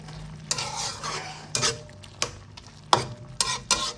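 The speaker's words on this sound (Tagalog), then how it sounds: "ginisa natin yan sa butter, no, para lalong sumarap" Kangkong leaves and onion sauté in butter in a pan, with a steady close sizzle and repeated sharp clinks and scrapes of a utensil stirring against the pan, no talking.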